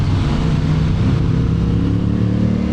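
Motorcycle engine fitted with a small SC Project exhaust, a steady loud rumbling drone held throughout without clear revving, with no talk.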